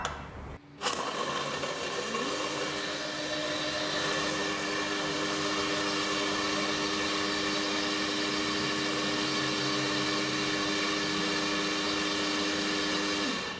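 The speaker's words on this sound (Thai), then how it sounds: "เสร็จแล้วเราก็ไปปั่นได้เลยค่ะ ประมาณ25วิก็พอนะคะ" A blender whirs loudly and continuously after a brief start, blending a mint Oreo milkshake with ice, a steady motor drone with a grinding texture that holds for several seconds.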